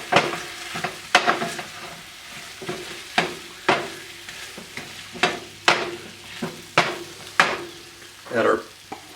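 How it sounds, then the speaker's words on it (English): Tofu being stirred into a simmering Kung Pao sauce in a pan, with a spoon scraping and knocking in repeated close strokes about every second over a soft sizzle. "We're going to add our tofu back in. We're going to stir that up."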